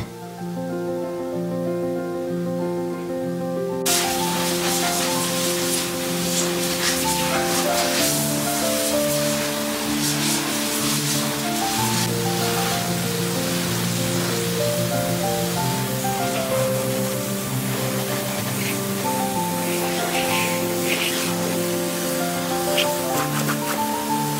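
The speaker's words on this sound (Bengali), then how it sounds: "কিন্তু এখানকার যে জলের স্পিড, মনে হচ্ছে জলের স্পিডেই পুরো ধুলো ক্লিন হয়ে যাবে।" A steady hiss of high-pressure water spray washes a lightly used car at a Tata service centre. It starts a few seconds in and runs continuously under loud music.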